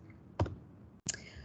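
Two sharp computer mouse clicks, about half a second apart, made while ticking checkboxes and opening drop-down arrows in a form template, close and crisp against a quiet room.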